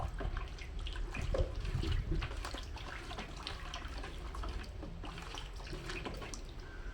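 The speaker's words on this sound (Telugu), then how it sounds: "ఈసారి వాటర్ అలా కలిపేస్తాను" Water is poured and mixed into a stain-removal solution for treating an ink stain on a white cotton-blend shirt, giving a steady, close splashing and trickling wash of liquid throughout.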